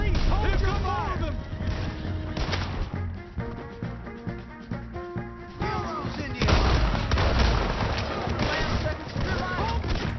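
Gunfire in Red Dead Redemption 2 cracks out in repeated loud bursts and booms over a dense bed of game music and ambience, with someone talking through parts of it.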